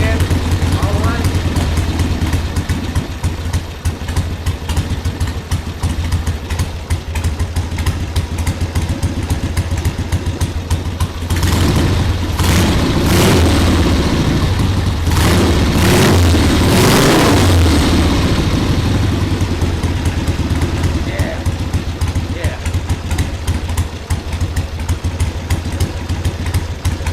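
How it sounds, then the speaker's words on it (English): A barn-find Ironhead Harley-Davidson motorcycle, run for the first time in 25 years, idles low and loud with a steady rumbling beat and a brief swell partway through, with voices over it. "I got it idling real low."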